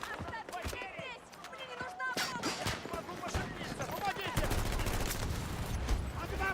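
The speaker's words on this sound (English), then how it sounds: "I'm shooting too fast." Battlefield 6 gunfire cracks in rapid bursts and scattered shots that grow denser toward the end, close and loud, with someone talking over it.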